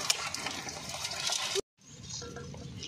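Warm water is poured over crabs in a village kitchen: a steady close splashing gush runs for about a second and a half, cuts off abruptly, then resumes more softly.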